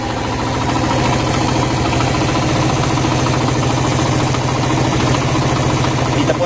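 A water-fuelled Suzuki motorcycle with a bubbler and carburetor runs with a loud, close, steady engine rumble and rapid rhythmic pulsing throughout.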